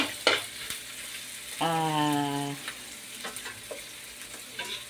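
Humba frying in a pan with a steady, close sizzle and occasional stirring clatter, a brief tonal whine cutting through midway; no talking.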